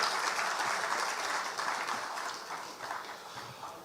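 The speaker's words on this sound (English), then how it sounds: "Shall we do a big round of applause for him?" Audience applause at a product launch event in Ghana, a brief burst of clapping from a crowd that gradually thins and tapers off.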